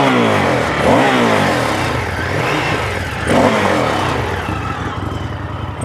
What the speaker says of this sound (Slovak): keď mu trošku poťaháte plynom za uši, tak je počuť ten jeho nádherný zvuk